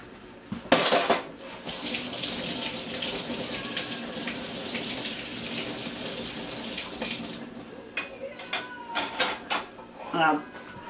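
Tap water runs and splashes in a sink while an egg is rinsed under it, a steady close gush that stops, followed by a few clinks and a person speaking briefly.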